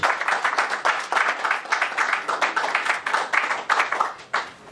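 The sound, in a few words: audience applauding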